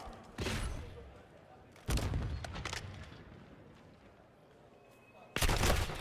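Bursts of gunfire in a Call of Duty esports match, three loud clusters of rapid shots separated by quieter stretches, with commentary voices running underneath.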